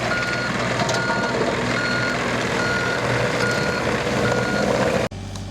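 Repeated loud reversing beeps from a mini excavator building a dirt berm for a homestead shooting range, an even pulsing alarm over a steady engine drone that drops away abruptly near the end.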